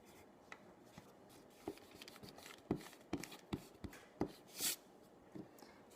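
A pen writes digits into boxes on paper, producing faint, close scratches and light taps in an irregular rhythm, with a few sharper strokes near the end.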